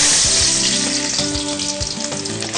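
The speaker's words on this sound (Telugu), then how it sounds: "మనకు ఆయిల్ వేడైంది. ఉల్లిపాయ ముక్కలు వేసేయండి." Chopped onion pieces sizzling in hot oil in a pan for a Telugu home-cooked dish, a loud, dense, continuous crackle and hiss with occasional stirring scrapes, close up and with no talk.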